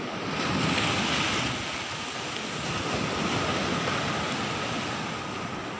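Sea waves wash steadily onto an eroding beach at Blibis Nareh, Pariaman, a broad surf roar mixed with wind buffeting the microphone, swelling early and then rolling on evenly.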